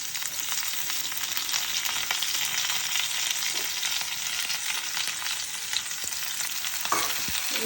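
Drumstick pieces and raw tomato frying lightly in a pan for a tomato jhal, giving a continuous bright sizzle with occasional scraping stirs and utensil knocks, steady and close, with no talking.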